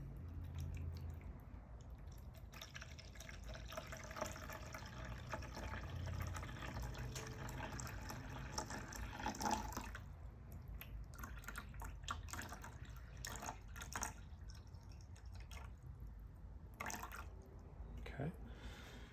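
Water at about 85 degrees pours steadily from a kettle into a bowl for about ten seconds while being weighed for bread dough, followed by scattered drips, small splashes and handling noises.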